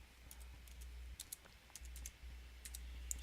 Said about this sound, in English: I want to hit enter, and I'm going to type exit sub